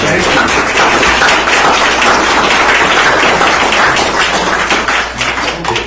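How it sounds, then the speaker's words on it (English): An audience at a city council candidates' meeting gives a long, loud round of applause, dense clapping that holds steady for several seconds before tapering slightly. "the audience give the candidates a round of applause"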